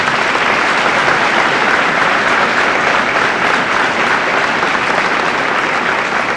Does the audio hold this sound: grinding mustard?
no